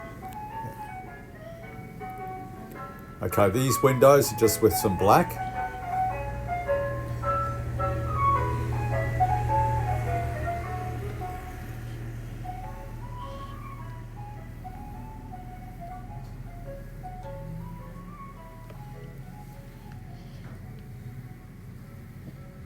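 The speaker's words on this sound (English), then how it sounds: "You can hear the ice cream truck in the background coming." An ice cream truck's jingle melody plays at a distance as the vehicle approaches through a city street, repeating tinkly notes throughout, with a brief loud rustling burst near the start and a few quiet spoken words.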